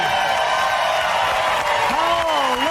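A studio audience at a live morning talk show's final episode applauds and cheers, a broad continuous wash of clapping with scattered whoops, and a voice rising briefly near the end.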